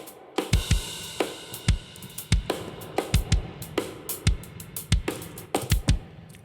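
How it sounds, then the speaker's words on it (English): A rock drum kit is washed in a big, swimmy digital room reverb. Steady kick and snare hits keep a mid-tempo groove, each one trailing into a dense, smeared tail. "Nice big swimmy style reverb, just gluing everything together"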